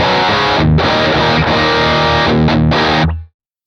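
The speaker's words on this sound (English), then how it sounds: "Now let's add a bit more gain and push channel 1 a bit more." Electric guitar through a distorted amp channel pushed with extra gain: a loud, thick, saturated chord riff played close, with brief gaps between strums, ending in an abrupt cutoff into silence.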